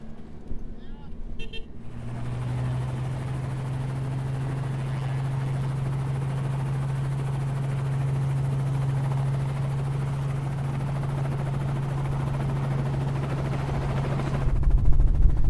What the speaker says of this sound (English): flying through Carnarvon in a helicopter